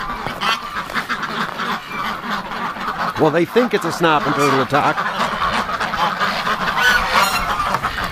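Ducks quacking and honking near a pond, a busy overlapping chorus of loud calls that peaks midway, with someone talking over them throughout.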